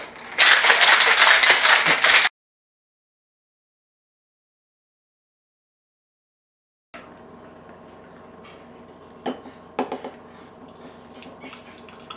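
Ice rattles hard and fast inside a shaken cocktail shaker holding a raw-egg drink for about two seconds, loud and close, followed by silence and then faint kitchen handling noises.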